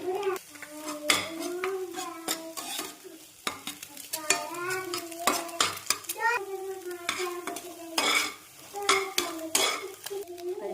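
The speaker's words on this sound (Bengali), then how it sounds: "এবার আমি ডিম ভেজে নেবো ডিম ভাজার জন্য আমি ইউজ করছি সর্ষের তেল" Eggs fry in mustard oil, sizzling steadily in a pan while a utensil scrapes and taps against metal, with repeated clinks throughout.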